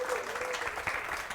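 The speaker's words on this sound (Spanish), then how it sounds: "Un aplauso para Eduardo." An audience at a church series closing event gives a short, steady round of applause, dense clapping heard mid-distance over a faint background voice.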